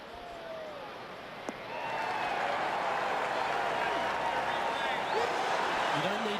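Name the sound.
golf crowd cheering in PGA TOUR 2K21 video game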